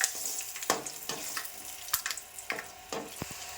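Peanuts fry in hot oil in a pan, a soft, continuous sizzle with scattered crackles and pops, fairly faint and close.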